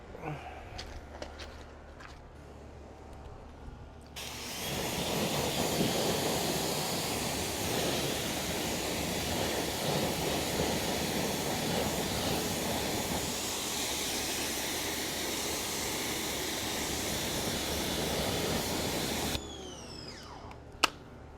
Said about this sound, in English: I'm going to go ahead and kick the power washer on and rinse this off.